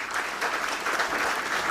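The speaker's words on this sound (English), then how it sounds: "It deserves a big round of applause" Audience applause at the listing ceremony of TBO Tek Limited, a steady dense wash of clapping from a large crowd, fairly close and even throughout.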